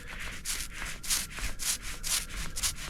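Paint roller spreading fiberglass resin across the back of a wooden ladder header board for a Catalina 30 sailboat, a soft rhythmic rubbing swish repeating in steady back-and-forth strokes, close and fairly quiet with no talk.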